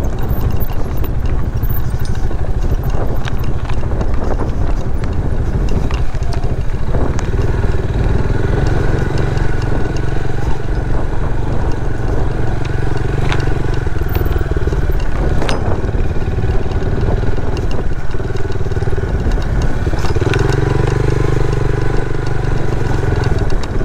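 A Rusi Class motorcycle engine drones loudly and continuously while riding along a rough road near the coast in Burgos, Pangasinan, the steady hum shifting slightly as speed changes, with no talk.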